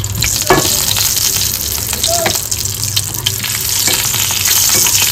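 Whole garam masala spices and a bay leaf fry in hot oil, producing a loud, dense, continuous sizzle close up, with a few stirring knocks and scrapes on top.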